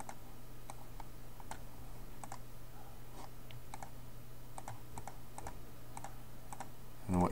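Computer keyboard and mouse clicks while working in Photoshop, a steady series of quiet, irregular light taps and clicks over a low background hum.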